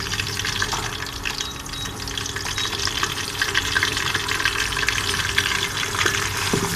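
Masala of coriander powder, red chilli powder and turmeric cooks in a pan for a potato and pointed gourd curry, with a continuous gentle bubbling, hissing simmer and no voices.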